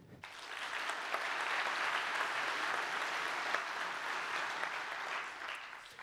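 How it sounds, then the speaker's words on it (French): Sustained audience applause fills a conference hall as a speaker is welcomed for an afternoon cloud-native talk, a steady dense wash of clapping rising quickly and holding evenly for about six seconds. "Vous pouvez applaudir."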